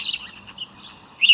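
A house sparrow gives several short, bright chirps in quick succession, close and fairly clear, with a louder call at the end and no speech.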